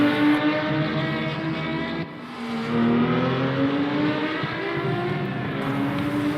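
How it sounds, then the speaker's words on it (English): A five-cylinder Procar race car engine in a video game revs hard and high, its pitch climbing, dipping briefly, then climbing again in a loud, continuous, raspy drone. "Just listen to that engine out of the Procar. 5-cylinder engine."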